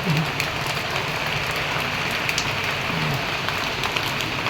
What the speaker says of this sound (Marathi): पावसाची सुरुवात आहे पण छान वाटतं